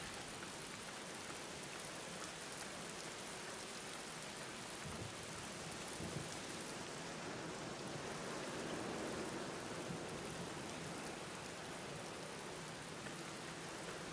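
Rain in the video game The Black Mirror falls as a steady, soft hiss of drops on surfaces, even and fairly faint throughout with no speech.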